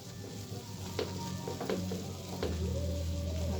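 Salted chicken pieces are mixed in a pan as they fry, giving a quiet, steady sizzle with a few soft scraping and clinking stirs, and no voices.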